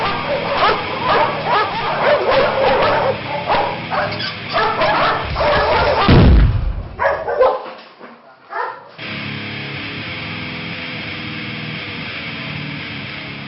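Mine detection dogs bark and yip excitedly in rapid bursts during training, then a whimper, before fading to a quieter outdoor background.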